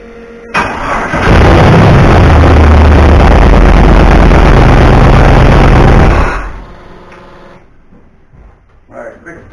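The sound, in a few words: car engine starting and idling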